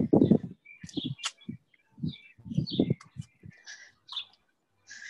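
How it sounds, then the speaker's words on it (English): Birds chirp outdoors in scattered short calls, some high and sharp and a few lower coos, heard fairly faintly over quiet gaps with no talking. "birds chirping"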